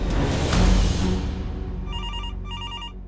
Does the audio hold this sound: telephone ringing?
yes